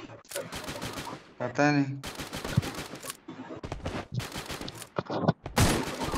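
Gunfire in a shooter video game comes in rapid bursts and single shots, scattered between stretches of close voices talking.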